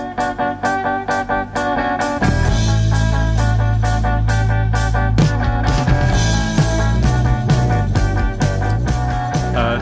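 A song plays at full volume: a few clipped guitar chords open, then drums, bass and guitars kick in with a driving beat.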